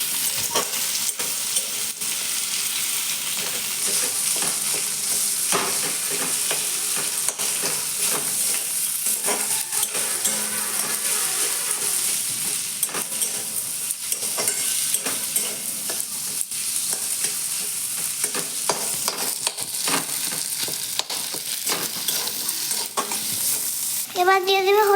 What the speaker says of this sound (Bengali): আলুগুলোকে একটু কেটে কেটে দিলে ভালো স্বাদ আসে চপে। এই যে দেখুন নেড়ে নিচ্ছে।